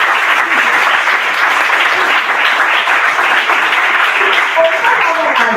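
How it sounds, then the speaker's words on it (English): An audience at a school workshop applauds continuously, a dense, even wash of clapping hands that holds steady throughout without pause. "Let's give a very big round of applause to Sonali Madam."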